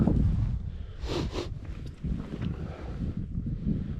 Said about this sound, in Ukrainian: Погода сьогодні жесть, сніг, вітер